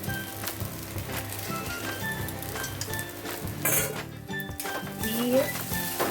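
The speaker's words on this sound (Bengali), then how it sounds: "এইবারে ভালো করে নাড়াচাড়া করব আর ভেজে রাখা আলুটাও আমি অ্যাড করে দেবো" Sabudana khichdi with fried potatoes stirred in a pan, a steady sizzle with scraping and light clinks of a utensil against the pan throughout, fairly close, with some background speech-like sound.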